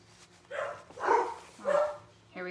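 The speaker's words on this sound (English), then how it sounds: "They don't really know why they bark." A dog barks three or four times indoors, moderately close, with gaps between the barks and a hum in the background.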